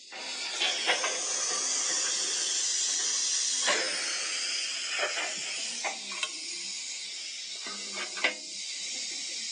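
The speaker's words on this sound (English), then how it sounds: "You have the water stop." A Bachmann Union Pacific ALCo 2-6-0 model locomotive's sound system plays a water stop effect: a continuous soft steam-like hiss broken by several brief clanks and splashy ticks.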